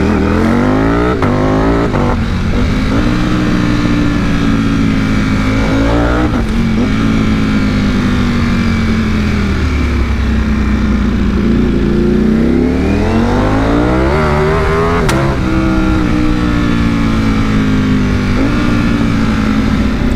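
A Ducati V4S motorcycle roars continuously as it is ridden, its engine loud and close, rising and falling in pitch through repeated throttle changes and gear shifts with no pause.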